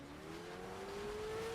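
Engine of a car in a battle royale video game, a steady droning hum with a slowly rising pitch as it accelerates, moderately loud and without voices.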